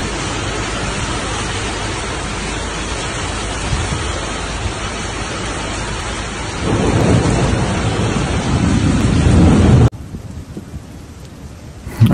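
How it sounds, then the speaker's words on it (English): Heavy thunderstorm over Mecca, Saudi Arabia, with intense rainfall and strong winds: a loud, continuous roar of rain and gusts swelling louder midway, then dropping to a steadier hiss, with no voices. "a rare and powerful storm hit the holy city of Mecca, Saudi Arabia, bringing with it intense rainfall, strong winds and flashes of lightning"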